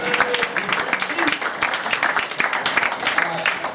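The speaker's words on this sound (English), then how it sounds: "you can applaud that." A crowd at a community history panel breaks into lively applause, with loud, dense clapping mixed with a few voices throughout.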